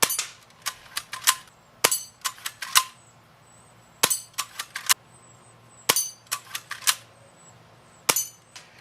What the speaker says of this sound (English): Shooting at the spinners down there, 5 yards away.